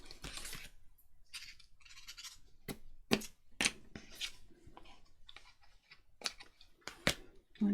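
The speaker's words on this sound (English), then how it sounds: "Cut your ends off." Scissors snip the loose ribbon ends while finishing a handmade paper tag, a series of short, close, crisp cuts separated by quiet pauses.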